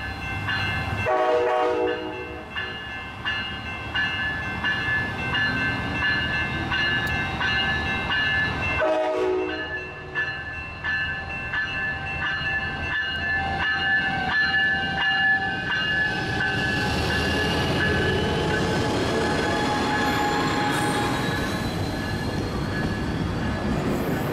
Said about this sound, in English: At Sorrento Valley, my northbound coaster train 679 meets coaster train 680 southbound to San Diego